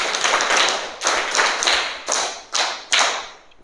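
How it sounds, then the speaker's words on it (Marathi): Children in a classroom clap together in a series of loud, bursty rounds, each swelling and then breaking off before the next one begins. "छान टाळ्या वाजवा त्याच्यासाठी"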